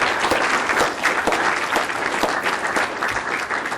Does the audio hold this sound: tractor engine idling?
no